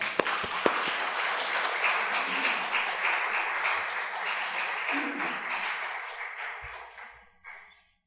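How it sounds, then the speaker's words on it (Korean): A church congregation claps in welcome at a 2015 Thanksgiving testimony service, a steady wash of applause from many hands that gradually tapers off and dies away. "여러분 나오실 때 박수로 환영해 주시기 바랍니다."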